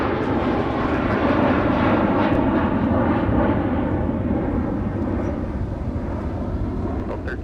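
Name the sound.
Boeing 717 jet departing MSP airport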